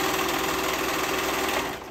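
A serger sews a V-neck with a steady, fast mechanical whir that holds at an even level, then eases off at the end.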